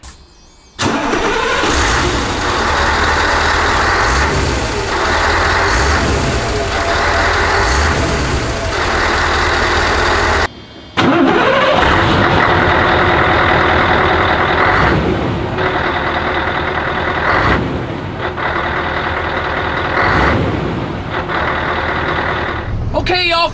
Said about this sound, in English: let's get behind the wheel of the 164L first and see what it sounds like